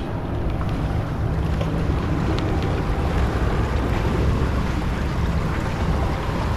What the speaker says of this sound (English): Just the right wind here.